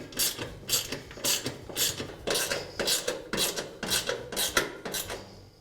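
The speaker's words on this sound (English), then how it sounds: "Now resecure the back of the burners using the new fasteners that came with the kit." Metal fasteners on the back of Weber grill burner tubes being secured with a hand tool, a close, steady run of about ten rhythmic ratcheting rasps, each a short scraping burst with brief gaps.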